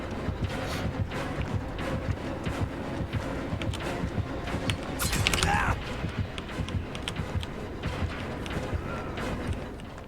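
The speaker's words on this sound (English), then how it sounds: "Oh, it's an elevator." Inside a Dead by Daylight match an elevator mechanism keeps up a steady run of clanking, creaking gear and ratchet sounds, with a brief brighter scrape around the middle and faint talk underneath.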